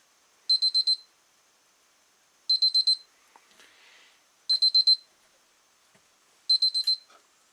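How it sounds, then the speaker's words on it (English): Electronic alarm beeping in four evenly spaced bursts, each a quick cluster of high, piercing beeps, with quiet gaps between, while pasteurizing milk. "And that alarm is going off"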